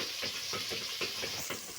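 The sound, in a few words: frying browned onions and tomatoes in a pan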